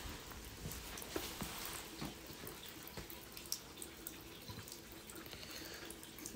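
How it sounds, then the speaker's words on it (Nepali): Drinking water running from a park water fountain, a faint, steady splash and trickle with small drips, heard alone at a quiet distance. "पानी खान सकिन्छ"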